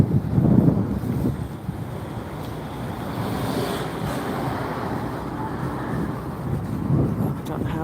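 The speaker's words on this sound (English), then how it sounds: "It is windy though." Wind at an airshow in Rhyl roars and buffets steadily across the microphone, a broad rushing noise with gusty swells, with no clear voices over it.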